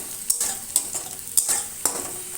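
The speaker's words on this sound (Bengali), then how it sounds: "আর এদিকে আমি পেঁয়াজটা ভাজি" Onions for egg tarka fry in a pan, a constant sizzle broken by four sharp spatula strokes and scrapes at fairly even intervals, up close with no talking.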